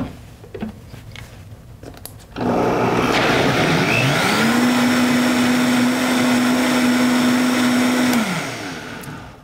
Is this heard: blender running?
yes